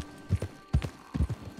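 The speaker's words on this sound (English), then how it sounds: "let me park my horse over here" Horse hooves clip-clop on the ground in Red Dead Online, three quick pairs of soft, close hoofbeats at a slow walking rhythm.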